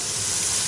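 Mushrooms and black pepper frying in a pan, a steady close sizzle with a soft even hiss throughout a brief moment, no voices.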